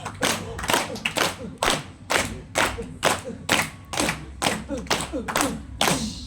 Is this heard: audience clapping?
yes